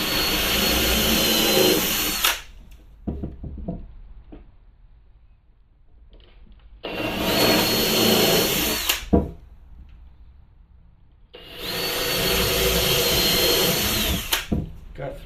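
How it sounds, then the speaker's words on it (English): Power drill pre-drilling holes for an indoor grow bed build: three loud, sustained bursts of whirring drill motor, separated by quieter gaps with handling noise and knocks. "So let's just go down the pre-drill."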